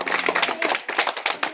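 Schoolchildren at a government primary school get a short burst of lively clapping from a group, many hands close together at a quick, uneven rhythm, with no talk.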